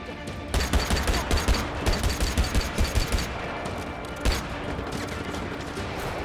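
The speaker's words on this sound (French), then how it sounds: "Ah, par contre, ça tire dans tous les sens." Dense video-game gunfire in Just Cause 3, rapid bursts and volleys crackling from several directions at once, loud and continuous with a heavier blast near the end.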